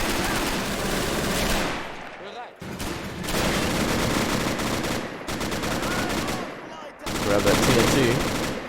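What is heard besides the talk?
gunfire from the video game Men of War: Assault Squad 2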